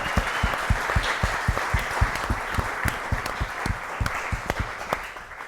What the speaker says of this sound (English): Let's give it for a round of applause for everybody here.